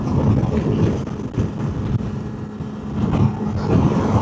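Kawasaki KLE500 SE motorcycle engine running steadily at just over 6,000 RPM while riding at speed, a loud continuous low drone mixed with wind and road roar throughout.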